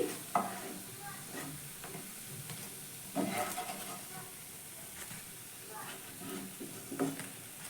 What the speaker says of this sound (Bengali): এইভাবে প্রত্যেকটা বড়া আমি ভেজে নেব